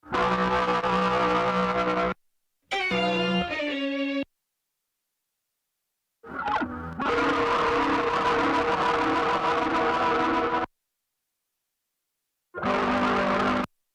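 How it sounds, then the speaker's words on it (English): Heavily distorted guitar notes played through a Moog's filters and distortion, in separate bursts with gaps of silence, buzzing and harmonically rich, atonal, played alone without talk. "plugging you playing guitar into my Moog. And then using the filters and distortion from the input"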